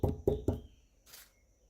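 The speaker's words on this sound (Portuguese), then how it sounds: "tem muitas pessoas e muitas igrejas que ouvem Jesus batendo na porta" Three quick, solid knocks on a door in an even rhythm, close and clear, followed by a faint soft rustle in near silence.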